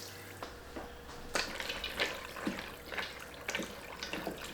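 Water poured into a pot holding pasta, a continuous splashing stream with irregular louder gushes, close by and without speech.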